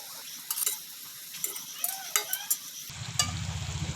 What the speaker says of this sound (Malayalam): അപ്പോൾ ഞാൻ ചിക്കൻ ഒന്നുകൂടെ മറിച്ചിട്ട് കൊടുക്കുകയാണ്